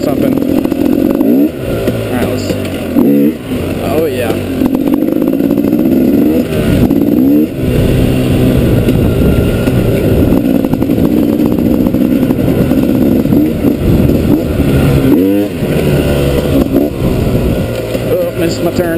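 A kickstart KTM motorcycle engine runs loud and close during a ride over hills, with a steady throaty drone that rises and falls as the throttle changes, and wind buffets throughout.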